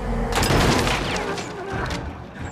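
An enemy's gun fires in Little Nightmares 2, giving a loud rapid volley of booming shots that peaks early and then tapers off toward the end.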